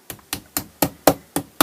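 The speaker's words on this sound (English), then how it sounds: "It's really just to prevent the wood from splintering when I hammer the rivet in." A hammer drives a rivet into the wooden handle of a knife made from a saw blade, giving seven sharp, evenly spaced blows, close and loud with no talking.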